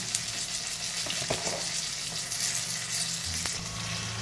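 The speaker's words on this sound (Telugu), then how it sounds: "ఒక మూకుడు పెట్టుకొని అందులో ఆయిల్ వేసేసుకొని మన పచ్చిమిర్చి వేయాలి" Green chilies, cumin and coriander seeds fry in oil in a pan, giving a steady, close sizzle with a few light stirring scrapes, no voices.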